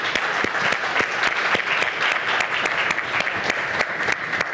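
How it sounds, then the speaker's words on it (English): Audience at a university round-table conference applauding the panelists, steady dense clapping with regular sharp close claps punctuating the crowd, sustained throughout without speech. "we can make an applause to the panelists"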